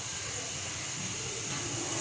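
Small mustard seeds sputter and hiss in hot oil in a pan, a steady, dense crackling sizzle that holds at an even level throughout.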